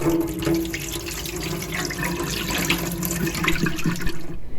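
Water pours and splashes steadily into a sink as it drains from a bowl of potatoes, a continuous close, moderately loud gushing that cuts off at the end.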